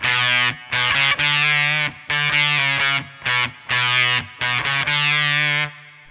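Electric guitar through a Warm Audio Foxy Tone Box fuzz pedal, octave up, gain high, bridge pickup, plays a short riff of heavily fuzzed, choppy, sustained buzzy notes with brief gaps between phrases.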